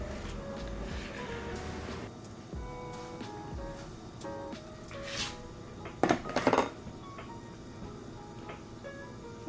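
Vegan chocolate chip brownie batter scraped into a sprayed baking pan, soft spatula scraping and handling noises with a couple of sharp metallic clinks against the pan partway through.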